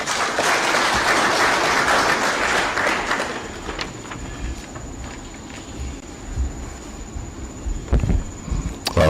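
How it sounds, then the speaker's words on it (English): An audience applauds the CEO at the launch of an electoral commission's post-election evaluation report in Kenya, loud sustained clapping that fades after a few seconds into quieter room noise with scattered knocks. "a better round of applause for the CEO"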